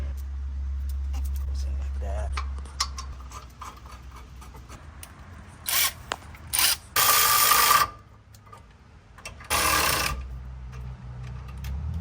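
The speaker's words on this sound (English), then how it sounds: "Now we're just gonna install the bracket. Two 17mm bolts from behind." A ratchet wrench tightens two 17mm rear brake caliper bracket bolts on a 2012-2020 Toyota 4Runner, giving several short bursts of rapid clicking between quieter stretches, close and fairly loud.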